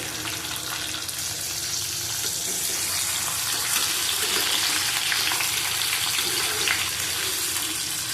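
Potatoes fry in leftover oil from frying fish, a steady broadband hiss and sizzle that runs close and even throughout, with no voices over it.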